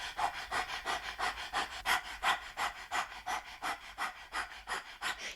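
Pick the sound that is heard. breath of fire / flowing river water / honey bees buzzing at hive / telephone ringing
breath of fire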